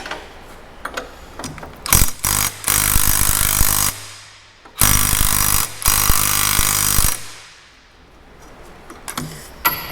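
Impact wrench working on corn head parts during a rebuild, two long loud bursts of rattling hammering power-tool noise, each a few seconds, with brief clicks and handling clatter between and around them, no talk.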